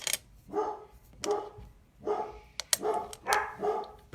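Dogs bark in repeated, fairly close bursts, about six sharp barks spaced roughly half a second apart, with no talking over them.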